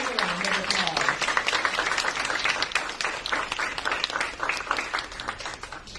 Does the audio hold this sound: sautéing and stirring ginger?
no